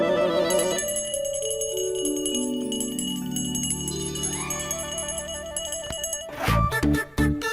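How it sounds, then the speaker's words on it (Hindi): Bells are rung during temple worship, with sustained ringing tones layered and slowly shifting, then a burst of sharp, louder strikes near the end. "ये घंटियाँ बजाकर माँ की नींद मत खराब करो।"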